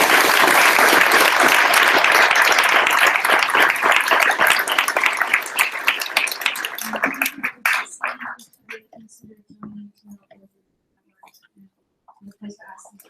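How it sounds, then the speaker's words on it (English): An audience at the close of an evening talk claps loudly and steadily, then the applause thins into scattered claps and fades to near silence. "Let's give a round of applause."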